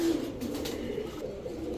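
White racer pigeons, including a male, cooing softly in a loft with a low, continuous throaty murmur that stays faint and close throughout, with no voices.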